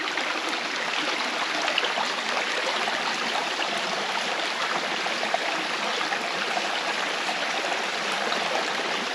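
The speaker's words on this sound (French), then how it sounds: "D'en haut ici, on va avoir une meilleure vue du ruisseau." A small stream flows beneath a footbridge on a hiking trail to a lake, giving a steady, even rush and trickle of water that continues unbroken throughout, soft and moderately close with no talking.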